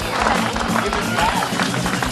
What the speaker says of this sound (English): Congratulations, big round of applause, your West Australian contingent.